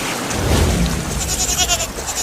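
A cartoon goat bleats a few times while being swept away in floodwater, over a rushing, noisy background of water and wind.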